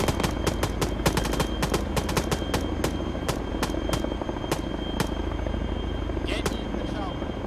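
Rapid bursts of automatic gunfire in the video game ArmA 3 crack out in uneven clusters over a constant helicopter rotor drone, loud and close throughout.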